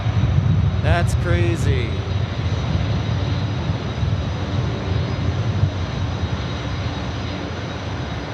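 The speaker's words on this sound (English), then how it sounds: "that must have been a full thrust takeoff right there" A jet aircraft at full takeoff thrust at Memphis International Airport fills the air with a heavy, sustained roar, and someone speaks briefly near the start.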